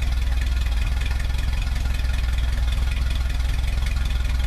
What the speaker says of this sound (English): Give it the gas and it sputters for a second.